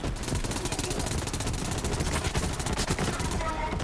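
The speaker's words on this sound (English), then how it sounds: "what this weapon does is it shoots normal shots, shoots these like sticky bombs that will end up like, as you see right here, explode" A weapon in Borderlands 3 fires rapid bursts of normal shots and sticky bombs that explode, making a dense, loud, continuous rattle of gunfire with blasts mixed in and a voice faintly under it.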